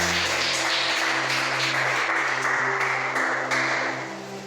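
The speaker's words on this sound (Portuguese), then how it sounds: "Palmas para Jesus." A church congregation applauds together at a service, a steady wash of clapping that runs throughout and fades slightly at the end, with a sustained tone underneath.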